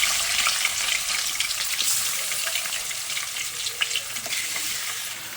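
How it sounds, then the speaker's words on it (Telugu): Marinated chicken fries in a hot pan with a dense, steady sizzle and crackle, close by, with occasional stirring scrapes and no talking. "సో ఇప్పుడైతే చికెన్ వేసేసుకుంటున్నాము."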